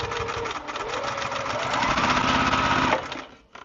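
A sewing machine stitches a quilt block for an hourglass sampler, running at a steady fast pace with its motor pitch rising as it speeds up, then stopping abruptly near the end, loud and close.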